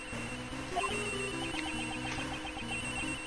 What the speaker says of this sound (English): Having just beeping for Edgeworth's phone number makes sense.